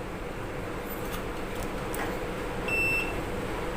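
Multimeter continuity tester sounding a short electronic beep around 2.7–3 s while testing household fan wiring and plug wires, over steady background hiss.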